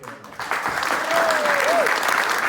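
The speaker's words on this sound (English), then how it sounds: "So a huge round of applause, please, for" Audience applause at an evening book festival event, a steady wash of clapping that swells after a quieter opening and carries on loudly to the end.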